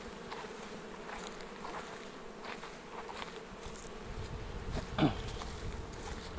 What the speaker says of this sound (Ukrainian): бджола працює. Дивіться, як вентилюють.